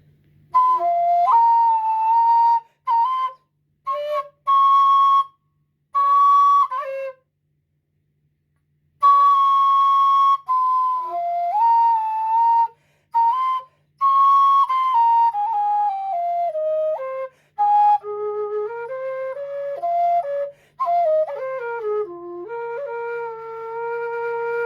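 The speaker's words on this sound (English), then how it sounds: "You can also have that belly vibrato with this whistle" A breathy low D whistle plays a slow melody up close, with sustained notes, short pauses between phrases, and gently wavering pitch from belly vibrato.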